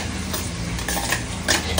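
Onion sautéing in ghee and oil while being stirred in a pot for chicken yakhni pulao, a close, continuous sizzle with intermittent spoon scrapes and light clinks against the metal.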